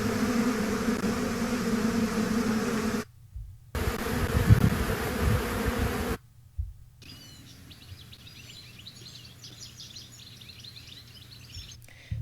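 Bee buzzing in an app video, a steady droning hum cut by brief silences, then a quieter stretch with light chirps over a low hum; no speech.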